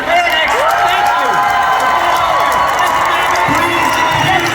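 Audience at a Psych fan convention panel at FanX Salt Lake City breaking into loud, sustained cheering, whooping and applause that fills the room, with voices speaking over it.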